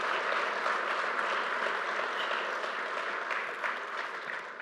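Audience at the opening of new LaGuardia Airport terminal facilities applauding pandemic workers, a sustained, even round of clapping from a sizable crowd that holds steady and tapers slightly toward the end.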